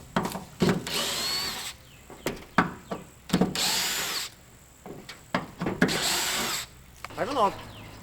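Power drill boring through a mobile home's metal roof panel from the top side, running in several loud bursts of a few seconds each with short pauses between, close by, with brief voices in the gaps.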